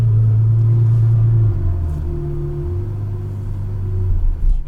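A Ferrari F12 Berlinetta engine rumbles from inside the car, a loud low drone that shifts pitch as it eases off and picks back up.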